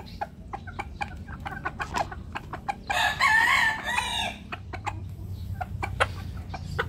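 Breeder hens and pullets call and cluck close by in a busy flock chorus, with sharp pecking clicks throughout and a louder drawn-out crow-like call in the middle.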